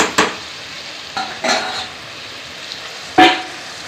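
Raw ingredients cooking in hot oil in a pan for a chicken curry, a low steady frying hiss broken by a few sharp scrapes and stirring clatters of a utensil against the pan.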